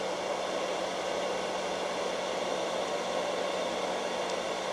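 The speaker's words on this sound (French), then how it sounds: "c'est un sèche-cheveux, ça varie beaucoup" A hair dryer running off a Zendure ACE 1500 portable power station blows with a steady, dense whoosh of air and a faint motor hum, close and unbroken from start to finish with no talking.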